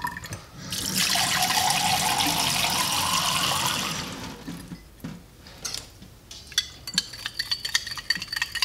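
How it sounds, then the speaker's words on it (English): Water holding cleaned rose seeds splashes and swirls for a few seconds and then settles into scattered drips and small knocks of stirring. "One more time, a good stir."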